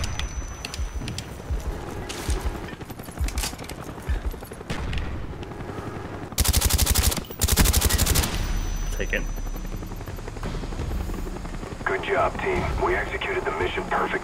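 Rapid automatic gunfire from a chopper gunner helicopter in a Call of Duty Black Ops multiplayer match, sharp dense bursts under game audio with voices talking over the action.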